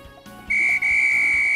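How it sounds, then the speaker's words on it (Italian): A referee's whistle in the Inazuma Eleven soccer video game signals the end of the first half with a sharp, steady, shrill blast, broken briefly once, over game background music. "Arriva il fischio dell'arbitro che decreta la fine del primo tempo."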